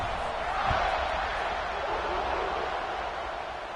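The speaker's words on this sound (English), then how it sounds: "this crowd is buzzing after that last score" A football stadium crowd at a Georgia versus Kentucky game hums with a steady, dense roar after a touchdown, with a broadcast commentator's voice over it.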